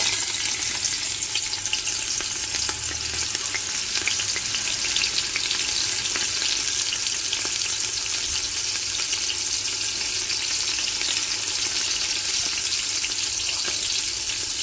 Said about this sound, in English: I have in my pressure cooker some oil heating, and I'm gonna add some garlic and some onion in the oil